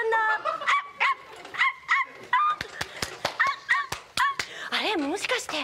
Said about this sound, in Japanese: あれ、もしかして恋さんじゃなくてワンちゃんかな？ あー、可愛いワンちゃんだ。